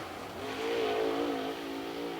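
A super late model race car on a qualifying lap at Cherokee Speedway roars past, its engine pitch climbing then easing as it accelerates, loud and alone.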